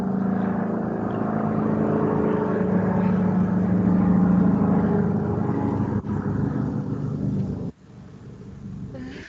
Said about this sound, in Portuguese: Passando no helicóptero aqui.